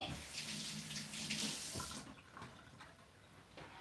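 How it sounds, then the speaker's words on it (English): Kitchen tap running as garlic is rinsed off fingers under the stream, a steady rushing splash of water that softens toward the end, with no talking. "I got garlic all over my fingers, so I'm going to rinse these off"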